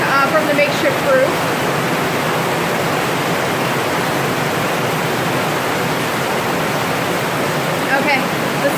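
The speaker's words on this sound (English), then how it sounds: "So here's the water flowing from the makeshift roof." Hurricane rainwater pours steadily off a makeshift tarp roof on an unfinished house, a dense, loud, continuous rush of splashing water close by throughout.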